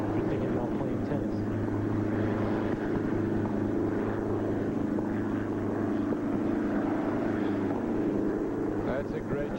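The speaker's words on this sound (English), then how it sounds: "check on that chopper that is flying by above them" A helicopter flies by overhead during a 1996 Cincinnati tennis quarterfinal, its steady rotor drone continuous throughout while a commentator talks over it.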